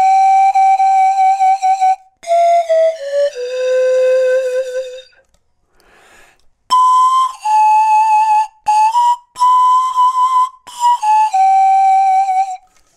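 Pan flute playing sustained notes with vibrato, loud and close, in several phrases separated by short pauses, including one longer gap near the middle.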